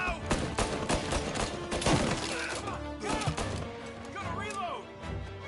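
Sustained gunfire in Mafia I: Definitive Edition, loud overlapping volleys with dense shots and crashing impacts over several seconds, with voices calling out beneath the shooting.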